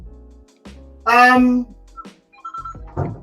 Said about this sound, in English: the sound coming. Is it from your phone? Is it from your house?